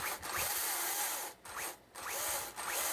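Battery-powered variable-speed electric tool converted for chainsaw carving, running with a steady broadband whir in repeated bursts that rise and fall in speed, with short pauses between, close and fairly loud, no talk.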